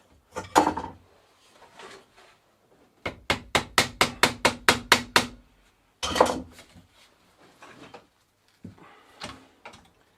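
A pressed-in bicycle bottom bracket is hammered out with a screwdriver, first in a few separate knocks, then a fast run of about ten sharp metallic blows, followed by more scattered strikes.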